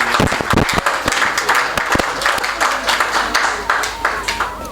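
Loud, sustained applause from an audience at a spiritual discourse on Vastu remedies, dense clapping close and continuous throughout.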